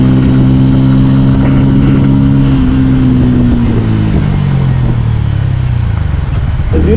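A Bajaj Pulsar P150 motorcycle engine runs steadily and loud, a low throbbing hum whose pitch sags slightly toward the end, with no clear separate kick-start.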